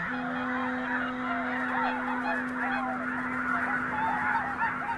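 A large flock of red-breasted geese honks continuously, many overlapping calls forming a dense, clamorous chorus with a steady hum underneath.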